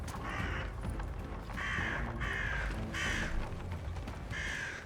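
Crows in the video game Atomfall caw in a steady series of about five harsh calls, roughly one per second, over a constant low rumbling background with no talk.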